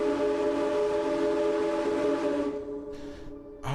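The bronze single-chime ship whistle of the SS Morro Castle in a video game sounds one loud, steady blast for about two and a half seconds, then cuts off, leaving a short quieter tail.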